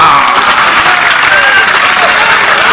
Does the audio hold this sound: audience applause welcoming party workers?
yes